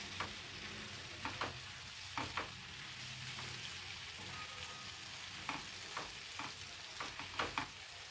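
Aloo egg bhujia being stirred in a sizzling pan: a soft steady frying hiss runs throughout, broken by light spoon scrapes and taps against the pan in small irregular clusters.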